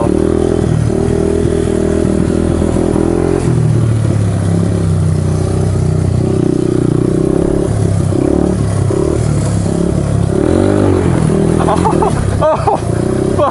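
A Honda XR200R dirt bike rides close over a log pile, its engine droning steadily loud throughout, with throttle blips and clattering toward the end.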